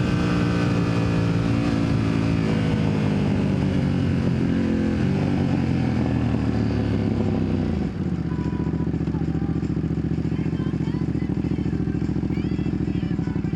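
A Ducati Panigale V2S sportbike engine roars steadily while riding, a loud continuous drone with a pitch sweep around the middle as the revs shift, and wind noise over it.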